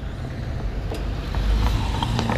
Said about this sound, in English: Oops, maybe after this car goes.